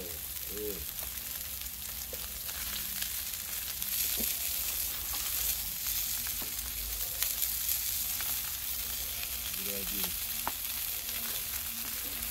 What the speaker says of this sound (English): I'm going to toast the buns on here